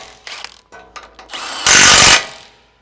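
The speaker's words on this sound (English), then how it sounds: "I can then grab the rattle gun and just rattle them tight." An impact wrench tightens wheel hub bolts during a front strut replacement on a Land Cruiser 200 series, giving a short loud rattling burst after a few lighter clicks and handling noises.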